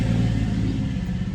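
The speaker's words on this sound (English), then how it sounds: "That might be a fire engine going by" Fire engine driving past, a loud low rolling engine rumble that holds steady and fades slightly, with no voices.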